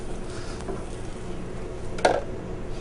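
Beaten eggs, about six, are ladled into a hot, sizzling pan while cooking Tex-Mex enchiladas. A steady close sizzle runs throughout, with a brief splash and clatter near the end.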